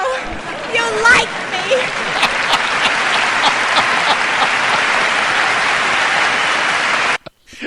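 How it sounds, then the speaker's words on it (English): A single person claps hands steadily for several seconds, a dense run of sharp slaps that stays loud and close until it stops abruptly near the end. "There's 8 seconds of me just clapping."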